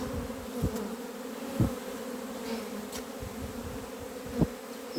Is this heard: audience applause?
no